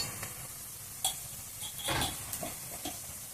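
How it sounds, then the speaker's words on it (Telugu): Ginger garlic paste with browned onion pieces and a little turmeric fries in a pan for a spiced fish curry, giving a faint, steady sizzle broken by several soft scraping stir strokes. "అల్లం వెల్లుల్లి పేస్ట్ పచ్చివాసన పోయేంత వరకు వేయించుదాం."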